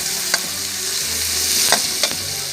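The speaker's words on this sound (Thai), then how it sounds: "ต่อไปก็เหมือนจะผัดให้ตัวปูมันเหลืองๆอ่ะ ให้สุกก่อน" Blue crab stir-fried in a pan for a crab-with-egg dish: continuous soft sizzling with a few sharp utensil scrapes and clinks against the pan, close and moderately quiet, no voices.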